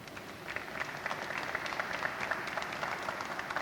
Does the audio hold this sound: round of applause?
yes